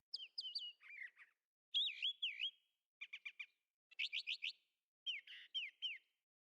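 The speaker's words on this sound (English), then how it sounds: "Why did the bird sound stopped?" Bird chirping ambience from the game Arknights: clear, close bird calls in short repeated phrases of bright whistled notes and quick trills, separated by brief silences, with no voices.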